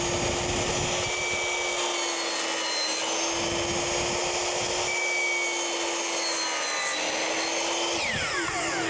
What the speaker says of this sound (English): I'm dealing with a 10-inch saw. Doesn't cut all the way through.